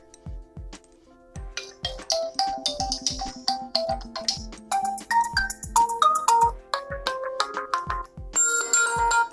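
A Realme 5 phone ringtone plays a bright, rhythmic electronic melody of chiming notes over a pulsing beat, loud and clear with no talking.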